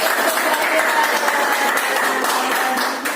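Classroom of children clapping together in a dense, steady burst of applause-like claps with some voices mixed in, cutting off at the end.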